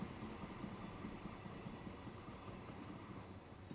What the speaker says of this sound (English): Train line delivering oil,